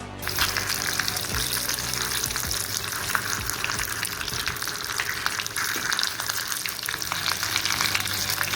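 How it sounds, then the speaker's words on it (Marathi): Stuffed green chillies fry in oil in a nonstick wok over a low flame, a steady close sizzle and crackle running throughout with occasional clicks of stirring. "गॅस कमी करायचा आणि दोन्हीकडून मिरच्या अगदी खरपूस भाजून घ्यायच्या"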